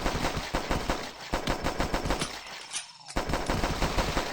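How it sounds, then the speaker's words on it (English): Rapid machine-gun fire from the zombie shooter game The Last Stand, dense automatic bursts with a brief gap near the end, loud and close. "Now I need to see you guys shooting"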